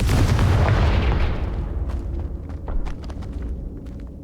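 Fiery blasting spell explosion in the video game Hogwarts Legacy: a loud, dense boom at the start that decays over a few seconds, with scattered crackling pops and small impacts trailing off afterward.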